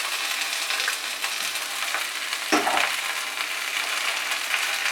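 Ginger paste fries and is stirred in a pan over medium heat for a Bengali neem shukto, giving a steady close sizzle with a spoon clinking against the pan midway.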